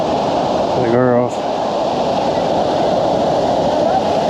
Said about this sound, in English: This is the top of the lower falls.